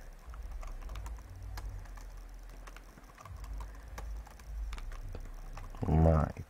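Quiet computer keyboard typing while entering text in Photoshop, soft scattered key clicks over low room hum, ending in a louder thump.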